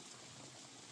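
A pot of liquid at a steady boil while cooking tuna in coconut milk, a continuous bubbling hiss with no talk, close and even.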